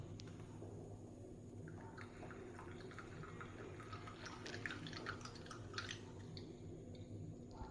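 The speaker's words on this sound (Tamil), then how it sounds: "ஸோ இதை ஒரு வடிகட்டி வச்சு ஃபில்ட்ரு பண்ணிடலாம்." Paani puri rasam dripping through a kitchen strainer, soft irregular drips and small wet splashes, faint and close over a low steady background hum.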